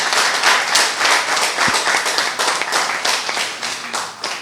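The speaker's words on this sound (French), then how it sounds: "Je vous demanderai de l'applaudir encore une fois." An audience at a ceremony gives steady, sustained applause, many hands clapping together at an even volume for several seconds.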